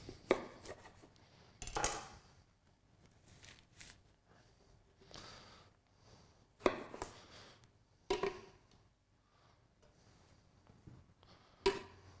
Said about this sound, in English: we're gonna start cutting the chorizo